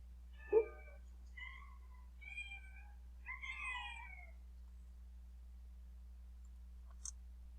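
Cats meow softly a few times in quick succession, quiet and a little distant, followed by a faint click.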